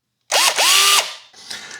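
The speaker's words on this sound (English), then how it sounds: "So I'm going to use my electric drill just to make that hole slightly" An electric drill boring a hole in a gaming display cabinet, its motor whining up in pitch in two short loud bursts before winding down, with some rattling afterward.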